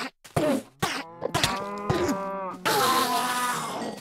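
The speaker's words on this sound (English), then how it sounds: "There's cows goddamn everywhere." Cows in a Minecraft-style farming game moo several times in quick, overlapping succession, loud and close, with no talk over them.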